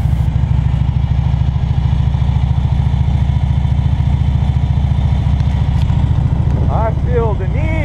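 A motorcycle idles at the entrance to De Leon Springs State Park with a loud, steady, close throb of the engine, and a voice is briefly heard near the end.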